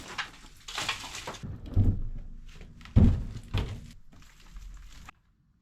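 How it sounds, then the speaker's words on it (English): Stone lintels being pulled from an old stone wall, in poor condition: a series of heavy thunks and scraping knocks of stone against stone, several separate impacts with a loud thud near the middle, no talk. "And now to pull out the actual lintels."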